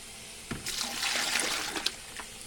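Water is poured into an appliance's reservoir, a soft, steady splashing and trickling stream that starts abruptly and runs for about two seconds, faint and close.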